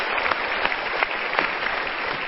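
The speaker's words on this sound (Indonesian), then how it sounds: "kita berikan tepuk tangan sekali lagi." A studio audience breaks into sustained applause at a motivational talk show, a dense, even wash of many hands clapping at once, fairly loud and steady throughout.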